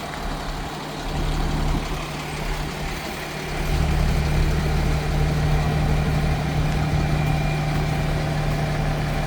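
A fire department ladder truck's diesel engine idles at a house fire scene, a steady low rumble with a droning hum that grows slightly louder midway, close by and without talk.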